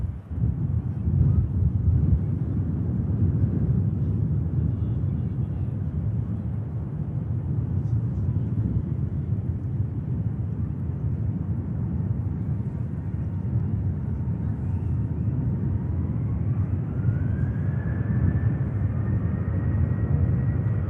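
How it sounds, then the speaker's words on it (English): A Ryanair jet taxis onto the runway intersection at Manchester Airport, a steady distant engine rumble mixed with wind buffeting on the microphone, with a rising whine emerging toward the end. "Ryanair, another aircraft just taking the intersection there."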